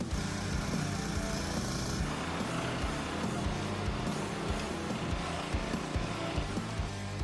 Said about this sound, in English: I made a log splitter press, so that's giving me 22 tons of squish squish.